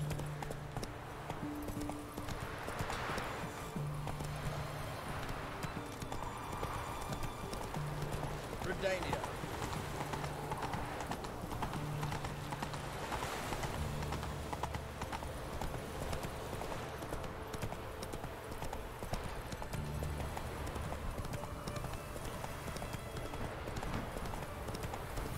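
Roach, the horse in The Witcher 3, gallops with a steady clip-clop of hooves through the whole stretch, with a voice talking over it and game music and ambience underneath.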